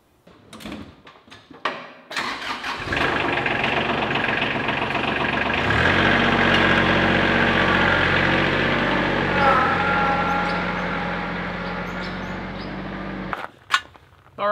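After a few clunks, a tractor engine cranks and catches, then settles into a steady, loud idle for several seconds before shutting off with a clatter.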